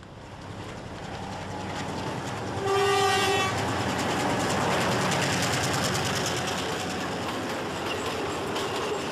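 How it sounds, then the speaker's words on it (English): A passenger train runs along a misty mountain railway in Sri Lanka's plantation highlands near Nanu Oya, with a steady loud rumble and clatter of wheels throughout and a long horn blast near the start. "The train is still used by all plantation employees, such as here in Nanu Oya."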